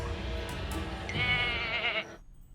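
Goats bleat in a wavering, nasal chorus, loud and close, stopping abruptly near the end.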